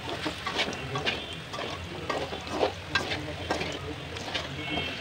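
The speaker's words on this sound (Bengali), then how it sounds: "2 পিঠ ভালো করে ভাজবো।" Thick-battered fritters frying in hot oil give a steady, loud crackling sizzle with bursts of popping bubbles, close by and with no talk.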